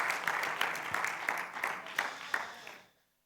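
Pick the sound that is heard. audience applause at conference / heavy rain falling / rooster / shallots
audience applause at conference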